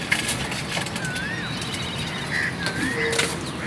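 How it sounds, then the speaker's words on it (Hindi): Racing pigeons at a loft, including golden birds, coo and flutter outdoors amid steady broadband background noise, with faint chirps and soft wing flaps throughout. "गोल्डन कबूतर।"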